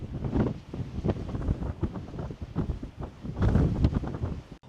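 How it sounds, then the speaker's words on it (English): Strong wind buffets the microphone at a mountain edge in the Guadalupe Mountains, a loud, gusty rumble that surges and eases throughout with no voices. "You can get right on the edge, which feels real uncomfortable with this wind"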